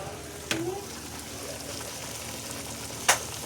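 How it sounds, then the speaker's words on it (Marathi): Ground masala paste sautés in oil for a Puneri matki misal, giving a steady, low sizzle broken by two brief, sharp clinks of a utensil against the pan. "आता हा वाटलेला मसाला तुम्ही हा चांगला तेल सुटतर परतून घ्या, छानपैकी परतून घ्या तेल सुटतर।"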